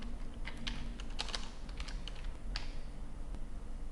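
Code is typed on a computer keyboard in a steady, close stream of light clicks and taps with a few louder keystrokes, continuing for several seconds without any talk.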